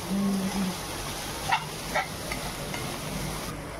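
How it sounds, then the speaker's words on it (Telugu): Turmeric stirred into fried onions in a hot pan, a soft steady sizzle with a couple of brief scraping knocks from the spoon, close by and without speech. "ఇప్పుడు పసుపు బాగా కలిసేటట్టు మిక్స్ చేసుకుందామండి"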